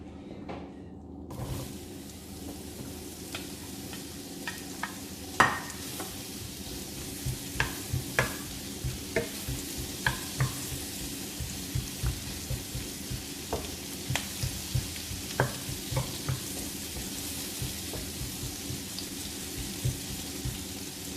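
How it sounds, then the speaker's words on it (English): Cabbage sautéing in a pan gives a steady, close sizzle punctuated by regular clicks and scrapes of stirring, repeated throughout with no talking. "now I'm going to saute the cabbage"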